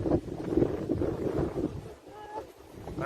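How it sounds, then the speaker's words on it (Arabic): Wind and sea waves at a beach cove, La Cala de las Sirenas in Almería, heard as a steady rushing roar with gusty wind buffeting the microphone; a brief faint tonal sound rises near the end. "كاينه هنايا بزاف ديال الموجه وديال البرد ديال الريح"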